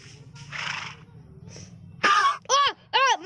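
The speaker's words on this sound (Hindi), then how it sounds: "मुझे दो घोड़े मिले हैं।" Horses in the video game Minecraft give two or three short, loud, wavering whinnies near the end, after a stretch of soft noisy game background.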